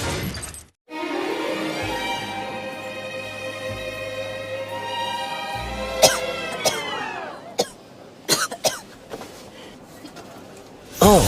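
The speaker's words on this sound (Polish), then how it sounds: "Czy kaszel zaskoczył Cię nagle w środku dnia?" A few sharp coughs and throat-clearing bursts break in after a sustained tonal passage in a TV commercial, close and fairly loud.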